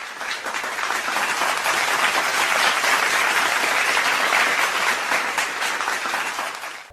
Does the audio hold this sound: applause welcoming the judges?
yes